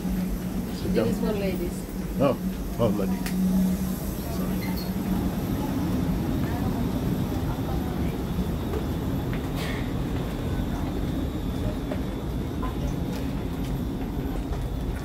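Steady rumble inside a moving Dubai Metro car, a low continuous drone that runs the whole way through, with people talking over it near the start.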